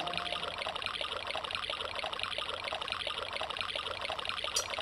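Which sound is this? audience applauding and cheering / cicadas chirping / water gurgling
water gurgling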